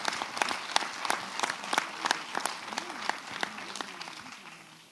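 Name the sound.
applause at a council meeting after a vote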